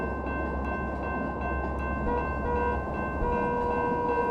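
A train rolls along the tracks with a steady low rumble and drone, a sustained tonal whine rising partway through, continuous and moderately loud, no voices.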